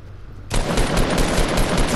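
Rapid bursts of shotgun fire in the Anarchy Acres video game, a loud, dense volley of blasts that erupts suddenly after a quiet moment and keeps going without a break.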